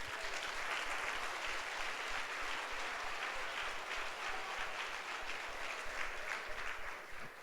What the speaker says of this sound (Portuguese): Dá um forte aplauso ao Senhor Jesus.